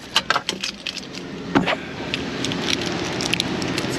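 Ignition keys for a Ford Mustang GT jangling close by, a cluster of bright metallic clinks early on, then softer rustling and faint handling noise.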